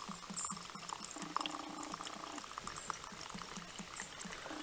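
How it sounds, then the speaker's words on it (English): Alcohol poured into a pot of sugar syrup and blackberries for blackberry moonshine, a steady close trickle of liquid running under faint kitchen background, with no talking. "we just pour that into the sugar syrup and the berries"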